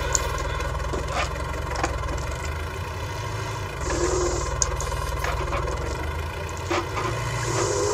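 A County Super Four tractor engine runs steadily at a low, rumbling idle during 1965 sugar beet lifting and drilling work, a continuous mid-distance drone with occasional faint clanks and no speech.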